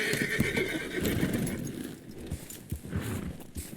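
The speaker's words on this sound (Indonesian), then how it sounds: "Apakah kita langsung ke naik kuda lagi?" A horse in Red Dead Redemption 2 whinnies loudly as its hooves clip-clop in an uneven rhythm, with scattered thuds and game sounds in the background.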